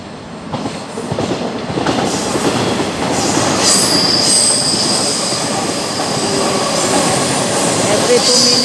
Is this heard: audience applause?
no